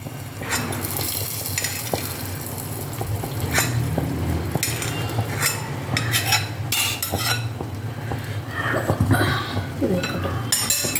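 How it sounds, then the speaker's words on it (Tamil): A spoon stirs curd into a pachadi in a metal vessel, giving repeated scraping strokes and light clinks against the pot over a soft kitchen hum, with occasional murmured voices in the background. "தயிர் கலக்கணும், கலந்துட்டு"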